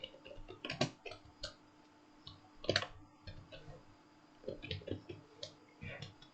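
A computer keyboard is typed on in short bursts of soft clicks with pauses between them, faint and close.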